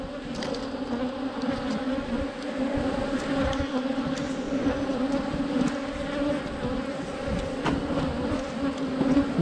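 Honey bees buzzing around a dwindling hive, a dense continuous drone of many wings, fairly close and steady throughout, with no talking.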